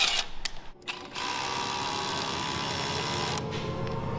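Drill or electric screwdriver driving a heated screw into wood, a steady whirring motor drone running close and loud for several seconds after a brief start.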